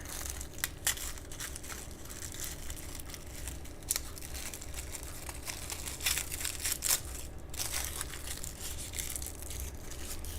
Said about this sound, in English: You probably hear me ripping through all this paper.